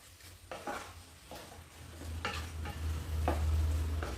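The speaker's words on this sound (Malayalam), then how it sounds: "നന്നായിട്ട് നന്നായി ഇളക്കി എടുക്കാം" Soya chunks masala curry stirred in a pan, giving soft, recurring scraping strokes of a spoon against the pan over a low frying sizzle, close and fairly quiet.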